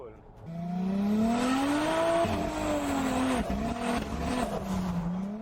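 A 500 HP Toyota FJ Cruiser with a swapped 2JZ-GTE engine accelerates hard, its loud, close engine note climbing steadily in pitch and holding strong, with people talking over it.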